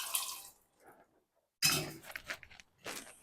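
Water is poured into a cooking pot of mutton curry with crushed garlic, splashing in short close bursts separated by a brief quiet pause.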